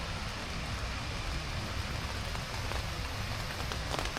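Rain falls steadily on a tent during an overnight bikepacking camp as the wind picks up, a dense, even patter close overhead that continues unbroken throughout with no talking.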